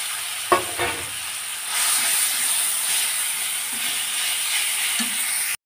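Fenugreek greens dropped into hot oil already tempered with dried chilli and nigella seeds, a loud steady sizzle and hiss rising after a brief clatter and continuing evenly until an abrupt stop.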